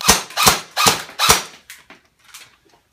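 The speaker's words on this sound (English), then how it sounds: "Find a safe target to shoot at" An airsoft gun firing BBs in rapid succession: four loud, sharp shots at a steady rhythm, then a few weaker, fainter pops trailing off, close to the listener.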